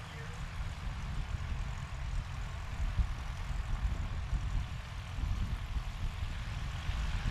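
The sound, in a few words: STOL aircraft taking off at competition practice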